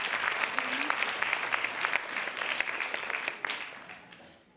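An audience at a junior conference on healthy eating and exercise applauds for Nordine, with dense, lively clapping from a crowd that fades away toward the end while a voice is faintly heard beneath it.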